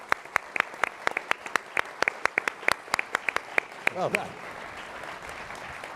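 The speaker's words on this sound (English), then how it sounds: "One more round of applause for them, please." Audience applause for a panel at a conference on great power competition, a small scattering of distinct, fairly close hand claps, roughly twenty sharp hits in a loose rhythm that fade out after about four seconds, with a brief spoken remark near the end.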